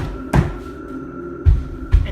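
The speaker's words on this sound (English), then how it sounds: "Till I heard a door slam" Three heavy door-like thuds at a steady interval, each a short loud impact over a faint low hum, with a hollow, cupboard-like knock to them.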